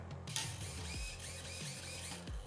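Short whirring mechanical bursts with a rising-falling whine repeat a few times, the small steering servo motor of a nitro RC car buzzing back and forth up close.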